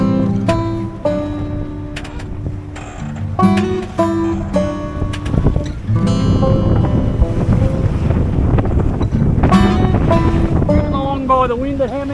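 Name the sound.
Jeanneau Sun Odyssey 40 sailboat sailing in wind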